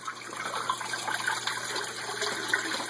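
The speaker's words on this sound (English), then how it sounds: "this bell siphon kicks in and pulls all the water out of the grow beds down into the fish tank" A bell siphon drains water from an aquaponics grow bed down into the fish tank, giving a continuous gushing, gurgling flow with steady splashing throughout, close and fairly loud.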